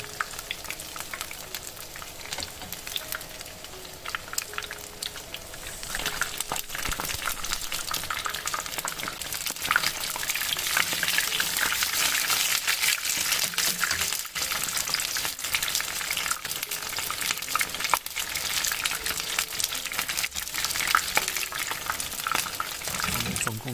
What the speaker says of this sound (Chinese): 翻个面，再煎炸2分钟就行了。